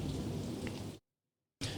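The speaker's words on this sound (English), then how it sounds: "In the background, you hear the magical thunderstorm going on." Rain falls steadily in the background of a thunderstorm, a dense hiss of drops that cuts out abruptly for a moment and then resumes.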